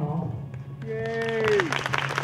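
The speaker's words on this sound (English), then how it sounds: "A warm Charlotte County round of applause for our volunteer judging panel" An audience at the Miss Charlotte County USA 2017 pageant applauds the volunteer judging panel, the clapping swelling moderately loud in the second half while a voice rises over it at the start.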